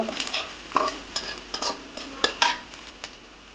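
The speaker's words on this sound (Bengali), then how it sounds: "এবার একটু জিরে দিয়ে দিব, আবার একটু নেড়ে দিব।" Onions with green chili and cumin stirred in oil in a frying pan, a series of sharp spatula scrapes and clinks against the pan in an irregular rhythm over a faint sizzle, close.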